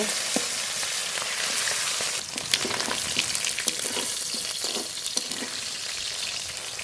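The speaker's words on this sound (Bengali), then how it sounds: "খুব ভালো করে ভেজে নেব" Fish sizzling steadily in hot oil in a home kitchen, a dense continuous crackle with occasional sharper pops and spatters, close and alone without voices.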